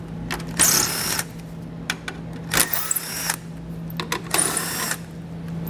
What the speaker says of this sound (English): So we'll grab our socket and pull all those out.